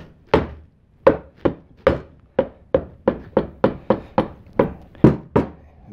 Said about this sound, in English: I got a piece that's out, so I'm going to pound that a little bit